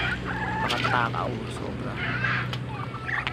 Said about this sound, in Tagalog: Ito yung grupo ng mga manok.